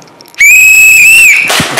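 A food vendor blows one loud, close whistle, a shrill sustained tone lasting about a second that ends abruptly, with a brief rustle right after.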